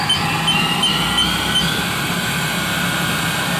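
A 2007 Haas VF-5/50XT CNC vertical machining center spins its spindle at 2,500 RPM, producing a loud, steady, unbroken mechanical hum with a faint high whine running throughout.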